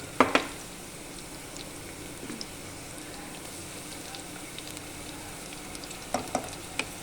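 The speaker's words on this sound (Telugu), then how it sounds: "అల్లం వెల్లుల్లి పేస్ట్ వేయాలి" Ginger garlic paste fries in hot oil in a pan for a flat bean (chikkudukaya) curry, a soft continuous sizzle and crackle with a few sharp clinks of a utensil at the start and near the end.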